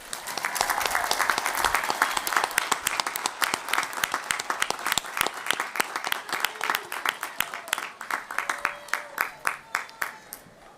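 Crowd applause for graduates at a May 2023 undergraduate commencement, a full burst of many people clapping that thins out over about eleven seconds into sparser, distinct claps.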